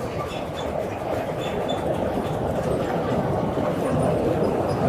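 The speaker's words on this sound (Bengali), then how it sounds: "আর একটা ট্রেন যাচ্ছে পদ্মা সেতুর উপর দিয়ে" A train crossing the Padma Bridge, a steady loud rumble with rolling wheel noise that holds evenly throughout, heard from nearby with a faint voice in the background.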